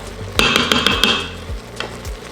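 Leeks sautéing in a soup pot as a utensil stirs them, with a run of close, sharp scraping clinks over a soft sizzle, then slower knocks toward the end; no voices.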